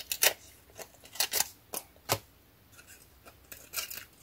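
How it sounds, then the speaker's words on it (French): Scissors snip off excess paper from a scrapbook pennant embellishment, about a dozen sharp close cuts in irregular bursts with short quiet gaps between them. "Et je vais couper ce qui dépasse."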